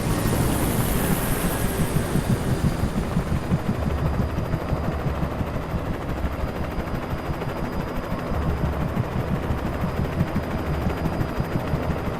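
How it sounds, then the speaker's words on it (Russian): A helicopter crashes in the video game Alan Wake: a dense, loud, continuous roar of rotor and engine noise with rapid rattling bursts like gunfire, steady throughout with no talk. "Да, мы будем лицезреть падение вертолета."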